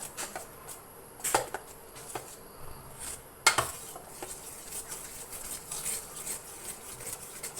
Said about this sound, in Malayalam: ഇത് നല്ലതുപോലെ ഇളക്കി നല്ലതുപോലെ ഇളക്കി യോജിപ്പിച്ചെടുക്കുക